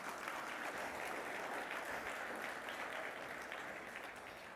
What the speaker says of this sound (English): Please, can we give them another round of applause?